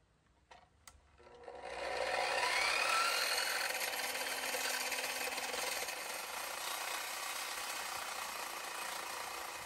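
A power tool cuts metal at a 20-degree angle for a tire swing-out build, starting after a couple of clicks and then holding a loud, steady grinding whine for the rest of the stretch, alone without talk.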